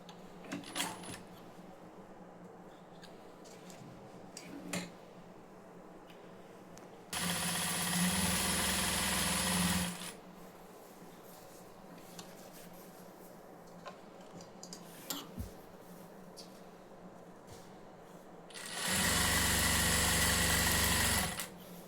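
A sewing machine runs stitching along the edge of a sleeve lining, two steady bursts of rapid whirring several seconds apart with quiet handling in between.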